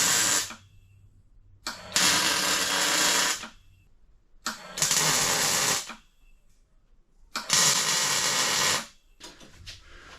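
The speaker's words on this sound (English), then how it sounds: "I just did 4 tack welds" Tack welding on a 1960s-style steel space frame, three loud bursts of harsh, crackling buzz, each lasting about a second and a half, separated by near silence.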